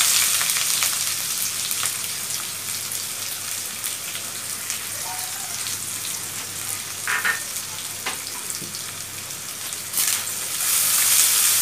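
Onions frying in a pan with cardamom, cinnamon and bay leaves, a dense, rain-like crackling sizzle that carries on steadily, with intermittent scrapes and clinks of stirring and a louder burst at the end.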